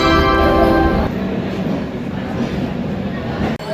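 Devagiri Express train at a station platform, a loud rumbling roar of the arriving train with a ringing tonal bell-like chime at the start, voices faintly mixed into the busy noise.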